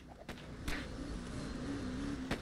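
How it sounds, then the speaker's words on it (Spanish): A car engine idles in a LEGO Batman video game, a low steady hum running throughout at moderate level, with a few brief clicks and knocks over it. "Se ha quedado el coche encendido"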